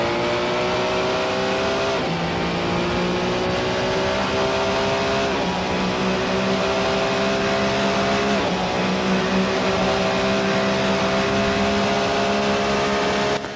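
Peugeot V10 race-car engine in a racing video game at Monza, a loud sustained howl that climbs in pitch and drops sharply at each upshift, repeating several times with no talk.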